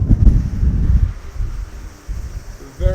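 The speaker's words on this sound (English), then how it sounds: "Very, very, very windy place." Strong wind buffets the microphone high on a mountain in Japan, making heavy low rumbling gusts that rise and fall, with a brief voice-like sound at the end.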